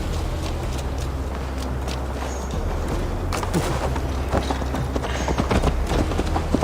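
Steady, rhythmic horse hooves clip-clop throughout as a mount carries Eivor on a long ride to Tamworth in Assassin's Creed Valhalla, with low ambient rumble beneath and the hoofbeats growing slightly louder toward the end.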